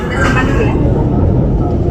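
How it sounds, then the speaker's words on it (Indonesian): A CC 206 diesel locomotive hauling the Kamandaka passenger train departs Kroya station, its heavy, loud low rumble continuous and close, with a person talking over it. "Jadi lokomotifnya CC 206 puwong ya, tuh kedengaran kan."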